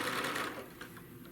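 Sewing machine running a longer stitch through thick bag layers, a close, rapid, steady mechanical whir with faint ticking, heard alone.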